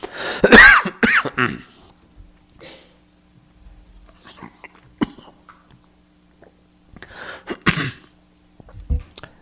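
A lecturer with a dry throat coughs and clears his throat in a few harsh bursts during a Buddhist talk, separated by long quiet stretches.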